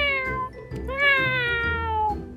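A person mimics a cat's meow, with two drawn-out, rising and falling meow calls in quick succession, close and clear.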